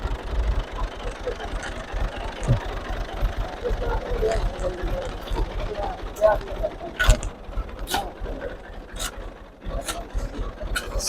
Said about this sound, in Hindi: ये ट्रैक्टर है।